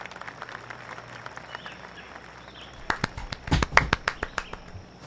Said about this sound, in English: Sorry, had to get my clapping in there.